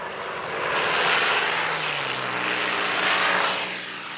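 A Messerschmitt Bf-109 fighter's engine roars in a loud, broad rush that swells, dips slightly and swells again as if passing close by, heard alone without any talking.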